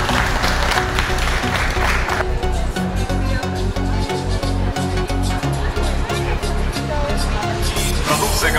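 A crowd claps at the opening ceremony of a Lenovo brand store. A dense burst of applause fills the first couple of seconds, then gives way to loud music with a steady beat.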